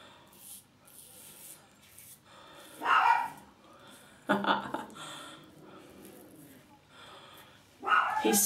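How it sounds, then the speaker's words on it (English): A dog barks indoors at a window as someone walks past outside, several sharp bark bursts spaced apart, with people talking between them. "There must be someone walking past with the dog."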